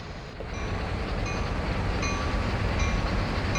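Two AC4400CW diesel locomotives moving together in a train simulation game, a steady loud rumbling drone with faint periodic tonal whines, continuous and alone without talk.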